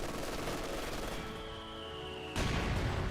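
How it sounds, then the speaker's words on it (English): Mortar and gunfire aimed at Grenadiers in Company of Heroes 2: a continuous rattle of shots that ends in a sudden loud burst, with no talking. "Mortar now engaging the Grenadier."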